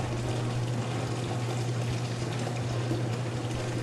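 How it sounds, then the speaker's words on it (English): Rinse water pours out of the door spout of a soft-serve ice cream freezer with the draw valve open, a steady, full rushing flow with a low hum beneath it, no talking. "Drain all the rinse water from the door spout."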